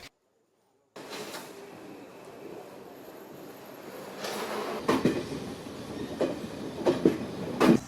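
A train rumbles past in Kurunegala, Sri Lanka, with a steady roar and rhythmic clickety-clack of wheels on rails, growing louder toward the end.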